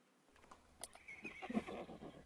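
A horse from the Unity asset Animset Pro riding system lets out a loud whinny that rises and shakes, preceded by a sharp hoof click, heard alone without talk.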